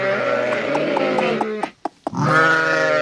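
Kangal Akkaraman sheep bleat as twin lambs meet their mothers: two loud, close, wavering bleats separated by a brief gap, with no speech.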